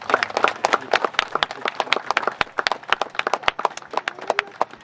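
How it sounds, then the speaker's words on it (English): Outdoor audience applause at a 9/11 flag garden ceremony, a modest crowd clapping in scattered, distinct hand strikes, fairly close and steady for several seconds. "Big round of applause."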